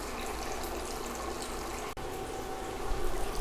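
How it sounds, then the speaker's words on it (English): Steady rush of homebrewing sparge water at about 170 degrees running from a pump outlet over a grain bed, continuous and fairly close with a brief dip partway through. "turn on sparge pump"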